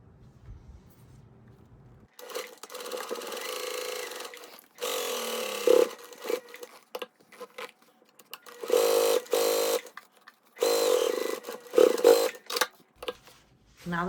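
Sewing machine stitching a travel pouch project in short separate bursts of close mechanical whirring, broken by quiet gaps and soft handling noises.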